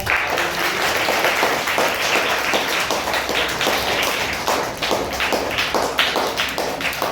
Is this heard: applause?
yes